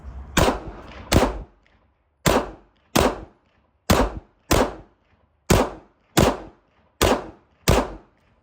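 Smith & Wesson M&P 2.0 pistol fired slowly during a 1,000-round burndown, giving about eleven sharp, loud single shots at irregular intervals. Each shot is followed by a brief tail, with near silence between them.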